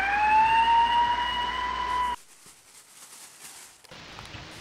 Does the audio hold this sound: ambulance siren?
yes